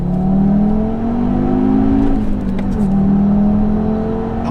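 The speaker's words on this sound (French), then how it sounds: "3500 tours minute, pied au plancher." An Audi TT RS Plus with a Stage 1 tune at 420 hp accelerates at full throttle from about 3500 rpm, its engine note rising steadily and loud from inside the car, with a brief dip around a gear change.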